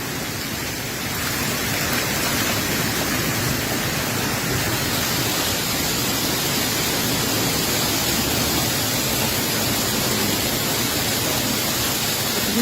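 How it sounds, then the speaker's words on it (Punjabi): Hailstones drum on a fiber roof during a Punjab storm in late February, a dense, loud, continuous patter like heavy rain that swells after the first second and holds steady. "ਦੇਖ ਰਹੇ ਹੋ ਉੱਪਰੋਂ ਗੜੇ ਡਿੱਗ ਕੇ ਛੱਤ ਤੇ ਵੱਜ ਕੇ ਥੱਲੇ ਆ ਰਹੇ"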